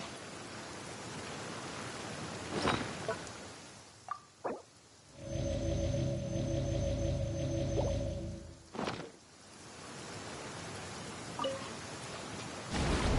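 Rain falls in Genshin Impact as a steady hiss, broken by a few sharp plops and a rumbling surge in the middle, while a tonal hum briefly rises over it.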